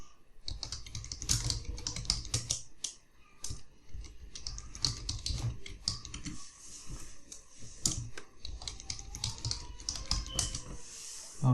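A password is typed on a computer keyboard during a Windows setup, producing a close run of crisp, irregular keystrokes with brief pauses and no voices.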